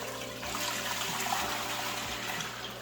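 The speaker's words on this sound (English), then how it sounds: "Just pouring this water in there so I have something to work with" Water with vinegar mixed in is poured into an aquarium tank, a continuous close splashing rush that holds steady for a few seconds with no voices.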